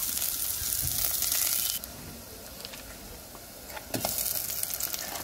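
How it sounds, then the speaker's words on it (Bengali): Onions frying for chicken biryani in oil left over from frying potatoes: a steady close sizzle that shifts and changes level partway through, as if the pan were being stirred. "পেঁয়াজ দিয়ে দিব, আলু ভাজার তেলটাই দিয়ে দিলাম, আর একটু তেল অ্যাড করব।"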